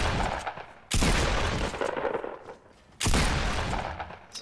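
Rapid bursts of video game gunfire in a Fortnite Solo Showdown match, two loud sustained volleys separated by a short lull, close and dense, with no talking.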